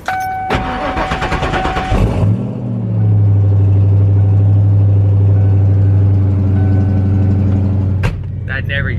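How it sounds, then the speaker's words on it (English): A Ford Foxbody Mustang makes a cold start: a chime and cranking give way to the engine catching into a loud, deep, steady rumbling idle, heard close, with a brief click near the end. "nothing's better than a nice cold start."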